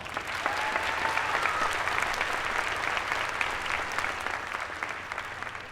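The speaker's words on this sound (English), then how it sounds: "let's give a round of applause for this great event" A recognition ceremony audience applauds for a dual enrollment event, dense continuous clapping with occasional cheers, fairly loud and even from start to finish.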